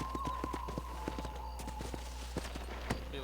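Horse hooves clop at a slow walk in the video game Red Dead Redemption. The steps are soft and fairly even, with a faint steady tone and a low hum running underneath.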